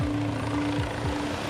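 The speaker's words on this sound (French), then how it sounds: "l'hélicoptère du SAMU arrive enfin." An arriving SAMU medical rescue helicopter beats overhead with a steady rotor thump and a whining engine tone, moderately loud and continuous through the short stretch.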